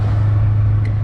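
A Honda S2000 engine holds a loud, steady high-rpm drone with VTEC engaged, heard close from inside the car for about a second with no talking.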